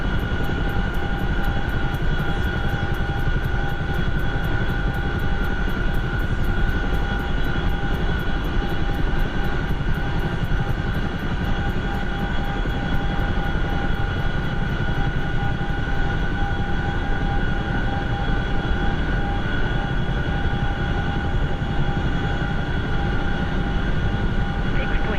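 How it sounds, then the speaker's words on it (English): A large twin-rotor Chinook helicopter in a flight simulator game, set on an Iraq map, drones steadily and loudly for the whole stretch, with a constant engine whine over a dense low rotor rumble and no break. "I'm using the Chinook because the Chinook's big enough we can load up enough crates to build a SAM unit in a single flight"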